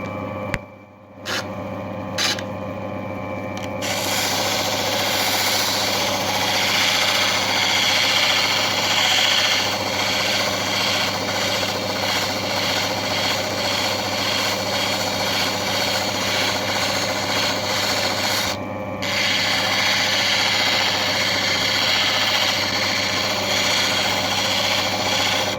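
An opal cutting and polishing machine runs steadily for the whole stretch, working an Andamooka opal: a loud, continuous motor drone with a rough grinding texture and brief dips near the start.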